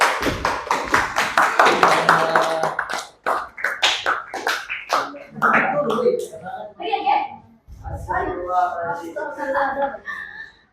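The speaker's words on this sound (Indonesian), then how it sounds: "Silakan tepuk tangan untuk kelompok 3." Classroom students clapping for presentation group 3, a burst of loud, rapid claps at the start that thins into scattered taps, followed by students talking close by.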